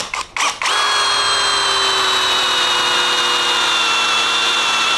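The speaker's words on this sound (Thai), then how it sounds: "เจาะเหล็กนะครับเดี๋ยวผมจะใช้ดอก8มิล นี่แหละนะครับเจาะเข้าไปเลยนะ" Cordless PUMA PM-1016BL 16 V drill set to speed 2, boring into steel with an 8 mm bit: a few brief starts, then a loud, steady high-pitched motor whine with bright harmonic tones held close up to the end.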